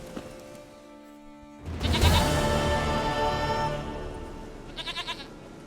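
Goat bleating in the video game Witcher 3: Wild Hunt: a long wavering bleat swells up loud and close, then fades, followed by a short pulsing burst of bleats near the end.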